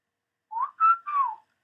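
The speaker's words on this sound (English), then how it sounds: "let's record that little piece of a whistle from me." A person whistles three short rising-and-falling notes recorded in Pure Data, close and clear against silence.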